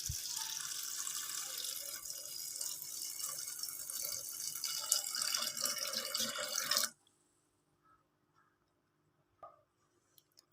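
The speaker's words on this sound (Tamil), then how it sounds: "கொண்டக்கடலையை முழுகிற அளவுக்கு தண்ணி ஊற்றிக்கலாம்." Tap water runs steadily into a pot of soaked black chickpeas for cooking, a continuous splashing pour that stops abruptly, followed by near silence with a few faint clinks.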